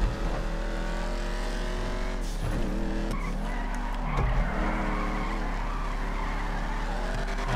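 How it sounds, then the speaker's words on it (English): A car in GTA V on PC skidding after a handbrake pull, with a loud steady engine drone, squealing tires and shifting revs throughout. "I actually did pull the handbrake there"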